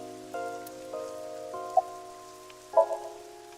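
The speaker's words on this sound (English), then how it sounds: "I can't see it well in the rain." Steady, soft rain hisses through a scene of AI: The Somnium Files, layered under sustained game music tones with a couple of brief chime-like accents.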